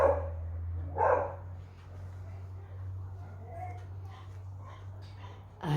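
A dog indoors barks a few times at people walking past the house, muffled and moderately distant, with a steady low hum underneath.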